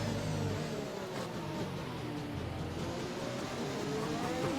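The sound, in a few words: race car driver lifting off throttle into turn 1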